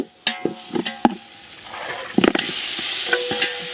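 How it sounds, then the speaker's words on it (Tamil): Guinea fowl meat for a village-style biryani stirred in a hot pot, with a few sharp scrapes and clanks of the spoon over a steady sizzle that fills out toward the end, close and moderately loud. "கிண்டி விடு நண்பா"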